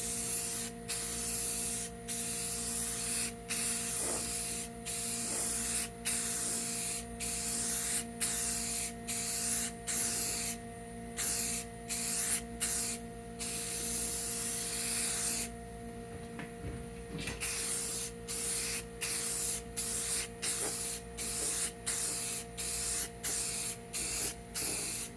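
Rust-Oleum 2X gloss clear coat hisses from an aerosol can in steady, loud bursts with short gaps between them, going over cheap chrome spray paint on engine-bay parts.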